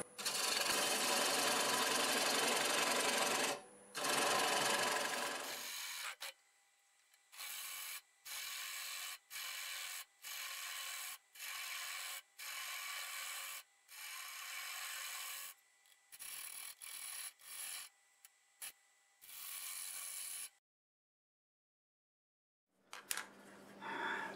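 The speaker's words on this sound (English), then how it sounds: "So we'll start out with a half inch bowl gouge and cut most of it away." Half inch bowl gouge cutting hackberry wood on a lathe at about 700 RPM, a loud, rough, broadband scraping roar in a long run, then repeated short cutting passes separated by brief pauses, with no talking.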